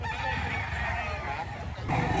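A dense, steady din of fowl from gamecock (fighting rooster) stock at a market in Lipa City, Batangas, with loud overlapping clucks and calls filling the whole stretch without pause.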